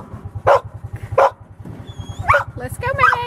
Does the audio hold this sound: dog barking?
yes